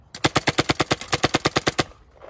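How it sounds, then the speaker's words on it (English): Planet Eclipse Etha1 paintball marker, mechanical build, firing a rapid string of about sixteen sharp, loud, evenly spaced shots at high rate, then stopping abruptly with quiet background after. "Sounds like a cannon because it's an Etha1"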